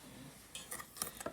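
A utensil stirs salt and vanilla extract in a bowl, a few faint clinks and scrapes arriving in a quick irregular cluster after a quiet start.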